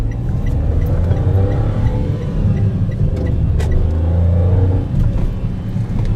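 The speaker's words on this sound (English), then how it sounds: "I'm trying to hear what the engine sounds like at full chat." Heard from inside the cabin, a small Toyota Agya hatchback engine pulls hard at full throttle, a loud, steady, droning rumble that rises slightly with road noise.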